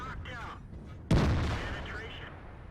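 A tank cannon firing in World of Tanks, a single sharp, heavy boom with a decaying rumble, loud and close, preceded by quieter in-game background sound.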